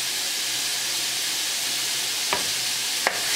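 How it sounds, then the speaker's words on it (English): Chicken sears on a hibachi grill with a steady, close, bright sizzle, broken by two brief sharp scrapes or clinks near the end. "So quick sear on all sides"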